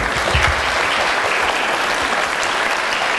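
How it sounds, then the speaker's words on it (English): Audience applause at a school DARE program fills the room with dense, steady clapping from a crowd, loud and continuous throughout with no break. "So one more round of applause for the folks up here."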